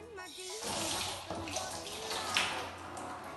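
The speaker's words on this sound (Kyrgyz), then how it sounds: "Коронавирустан сактаныш үчүн биз колубузду самдап жуйбуз." A tap runs steadily into a sink while hands are washed with soap, a continuous splashing rush of water heard up close, with a voice speaking over it.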